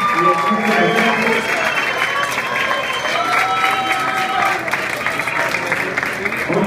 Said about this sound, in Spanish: les pido un fuerte aplauso para los dos jueces